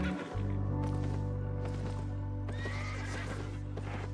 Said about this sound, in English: Heard another horse.